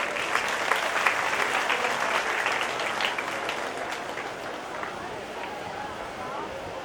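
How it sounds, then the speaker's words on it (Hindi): An audience claps for the Gaudiya Nritya Bharati dance group at a Janmashtami celebration at ISKCON Kanpur, with dense, lively applause that holds steady, then eases slightly toward the end. "एक बार जोरदार तालियां उनके लिए।"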